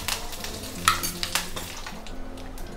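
Mustard seeds, urad dal, cumin, two dried red chillies and curry leaves frying in hot oil for a tempering, a steady close sizzle with spoon stirring and a few metallic pan clinks.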